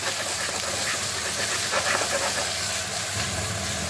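Portobello mushrooms sizzle steadily in a hot pan, giving a continuous broadband hiss at fairly close range with no talking.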